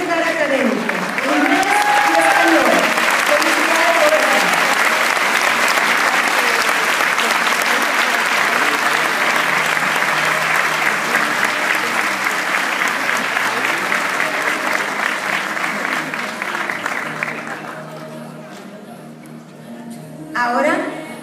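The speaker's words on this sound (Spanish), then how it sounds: "Recibamos a Roberta con un caluroso aplauso" A graduation ceremony audience claps loudly and steadily for about seventeen seconds, a dense, close wall of applause that then tapers off into quieter room noise.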